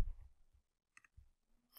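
Mouse clicks on a save button: a faint, quick click sounds near the middle, with a few soft taps and handling noises around it in an otherwise quiet room.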